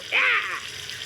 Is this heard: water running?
yes